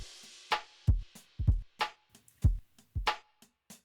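A B-section drum loop: punchy kicks and snappy hits with a lightly swung eighth-note hi-hat pattern, crisp and upfront in a steady groove with no voices.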